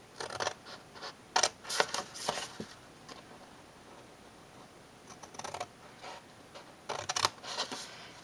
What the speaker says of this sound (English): And we're going to cut up the score lines.